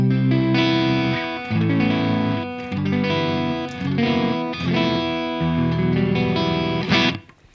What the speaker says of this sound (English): here's the sound of this Les Paul with the coil tap on the neck pickup